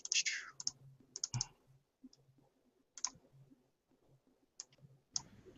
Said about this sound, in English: I hear lots of clicking, but I don't see anything